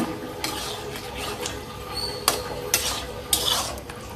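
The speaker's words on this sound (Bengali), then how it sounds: "ভালোভাবে নেড়ে নিচ্ছি" Pointed gourd curry with spices is stirred in a pan, a low simmering hiss under several brisk scrapes and knocks of a utensil against the pan.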